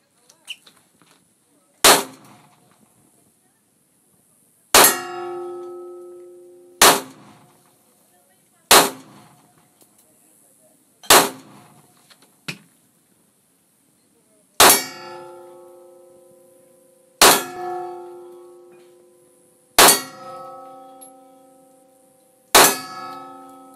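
Gunshots hit steel targets during outdoor target practice: about nine sharp, loud clangs at irregular intervals, each ringing metallically and fading over a second or two, with silence between them.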